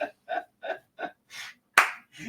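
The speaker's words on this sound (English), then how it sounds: "That was a fake clap." A single person claps hands a few times in a steady rhythm, close and dry, followed by a couple of louder, sharper slaps with brief silences between.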